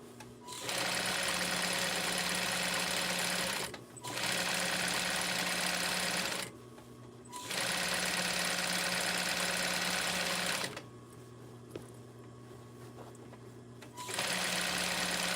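A sewing machine top-stitches around the edge of a baby blanket, running in long steady whirring bursts with short pauses between them, close and loud with no talk.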